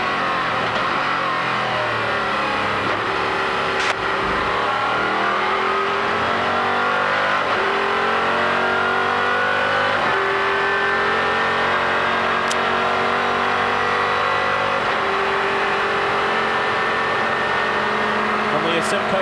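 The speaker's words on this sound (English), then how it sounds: "This car is suffering a little vibration problem." A sports prototype with a vibration problem circles Road America during a 2004 ALMS race, its engine droning loudly and continuously with rising and falling pitch as it shifts, while a commentator talks over it.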